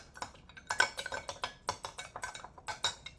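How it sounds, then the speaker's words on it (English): A spoon stirs bean salad dressing in a bowl, giving quick repeated clinks and scrapes of metal on dish in an uneven rhythm, close and fairly quiet with no voices. "Stir it up."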